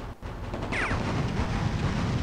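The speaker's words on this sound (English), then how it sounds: "you can actually set up chain reaction explosions" A heavy, rumbling chain-reaction explosion blast in Grand Theft Auto 1 fills the scene after a brief dip, sustained and loud with a thundering low roar.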